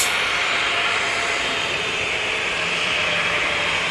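A Ryanair Boeing 737-800 airliner at Manchester Airport roars with a steady, loud, broadband jet-engine rush that holds constant throughout, with no voices over it.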